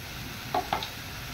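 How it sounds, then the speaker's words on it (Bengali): Egg rezala ingredients stir-fry in a pan with a soft, steady sizzle, broken by two quick, close scrapes of a spatula. "এবারে এটা সুন্দর করে এর সঙ্গে কষাবো।"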